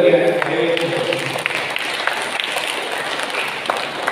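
An audience at a church Mass applauds to welcome a guest, with steady, moderately loud clapping running throughout.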